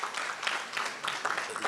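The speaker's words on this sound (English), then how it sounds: "you must give yourself a round of applause" A summit audience of youth participants claps together in a short burst of steady broadband clapping that fills the room, with no talk over it.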